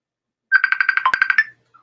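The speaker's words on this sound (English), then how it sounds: "Someone's calling me on my phone." An incoming call on a mobile phone plays a bright, fast-pulsing ringtone burst for about a second, close and loud against silence, during a record auction livestream.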